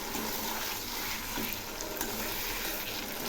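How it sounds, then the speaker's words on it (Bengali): A paste of poppy seed, spices and green chilli fries in a pan. The sizzle is a dense, steady hiss that stays even and close from start to finish, with no voices. "এই মশলাগুলো একটু কষিয়ে নেব"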